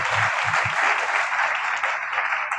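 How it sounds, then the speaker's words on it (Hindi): Loud, dense applause from an audience at an event honouring a guest, steady clapping filling the room throughout with a few low thumps near the start. "मैं चाहता हूं सर के लिए जोरदार ताली बजाइए।"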